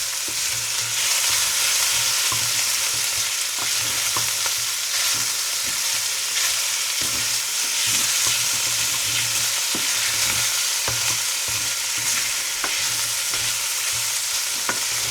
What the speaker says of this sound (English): we're just looking to sear it